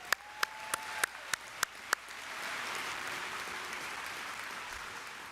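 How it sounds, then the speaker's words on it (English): Applause at a Dakota State University spring commencement ceremony, opening with several sharp, evenly spaced single claps, then a soft, distant, sustained wash of crowd clapping across a large hall. "Keep that round of applause going."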